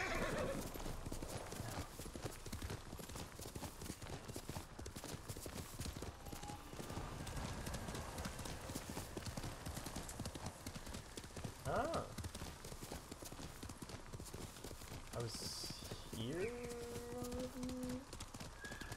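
A horse in Ghost of Tsushima gallops with a fast, dense drumming of hooves that carries on throughout. A loud neigh breaks through near the end, and a voice talks at points over the action.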